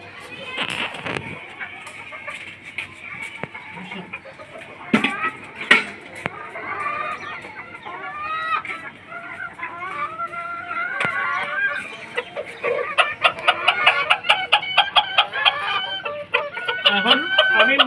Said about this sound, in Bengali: এখন আমি মুরগিটা ছাড়বো